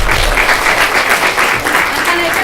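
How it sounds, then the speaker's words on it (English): An audience gives a round of applause at a community paramedicine partnerships meeting, a dense, even burst of clapping from a modest crowd, close and continuous throughout. "Now a round of applause."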